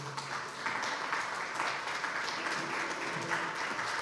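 A church congregation stands and applauds in a steady, moderately loud wash of clapping that carries on without a break.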